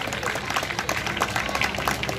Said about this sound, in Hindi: छोटा तालियों से हमारा अतिथि का स्वागत करें।